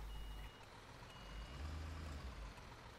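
A construction truck in the Bau Simulator 2015 game sounds its reversing warning beeper, steady repeated beeps over a low idling engine rumble, with a brief air-brake-like hiss.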